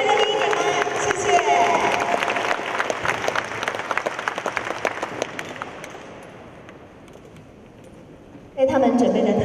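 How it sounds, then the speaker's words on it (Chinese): Audience at a formal exhibition event applauding to welcome two student performers from an American school, loud dense clapping and some cheering that gradually thins and fades away, then a sudden burst of other sound at the end. "我可不可以借由各位热烈掌声来欢迎我们的美国学校的 Jackie 还有 Kate 上台来为大家演出"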